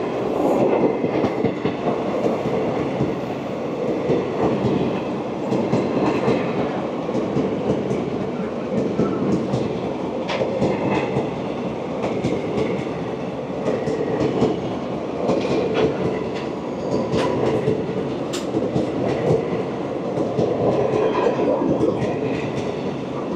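The Garib Rath Express runs past the Kanchanjunga Express at Hilara station, with a steady loud rumble of wheels and carriages and rhythmic clatter throughout, no voices.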